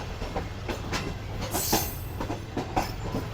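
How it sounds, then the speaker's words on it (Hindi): A train pulls out of Sahiwal railway station in Pakistan, a steady rumbling roll with rhythmic clickety-clack of wheels over rail joints and a brief metallic squeal, heard from on board. "ट्रेन हमारी निकल रही है साहिवाल रेलवे स्टेशन से"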